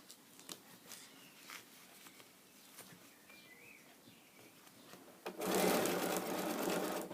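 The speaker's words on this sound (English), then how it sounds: "I'll try and sew a bit slower" A domestic sewing machine stitches an iron and tool caddy, starting after a few quiet seconds of faint background sounds and then running steadily and close at a steady pace, with no one speaking.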